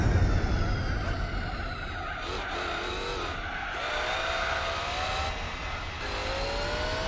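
A knockoff Ferrari racing in Gran Turismo 4, its engine revving and whining steadily up and down through the gears with brief shifts, loud and up close throughout.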